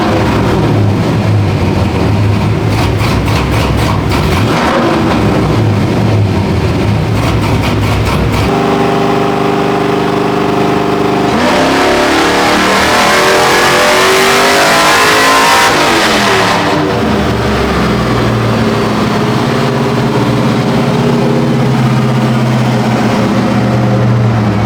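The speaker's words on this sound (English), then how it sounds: "So we're about to throw it back on the dyno and see what it does." LS-swapped OBS Chevy truck on a dyno, engine loud and close, idling then surging through a long full-throttle rev that holds and falls back to a rumbling idle.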